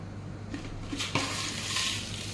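Chicken pieces fry and get stirred in a pot for chicken machboos, a steady moderate sizzle carrying a sharp metallic clink of the spoon against the pot partway through, with no talking.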